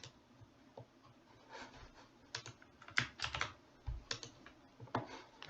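A password is typed on a computer keyboard in close, irregular bursts of soft clicks, with short pauses between groups of keys and no talk.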